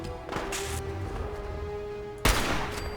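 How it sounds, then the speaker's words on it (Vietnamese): A single-shot gun fires in Fallout 4, one sharp blast near the end and a softer report early on, over a constant low game ambience. "Giờ chỉ có mỗi súng bắn phát một mà thôi."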